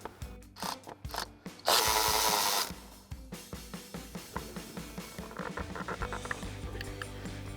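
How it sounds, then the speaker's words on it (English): An 8mm socket on a ratchet loosens an ignition coil bolt on a Ford F-150 engine, giving a quick run of close, regular clicks, preceded by a brief burst of a power tool. "What we're gonna do is grab our 8mm socket and remove our bolt."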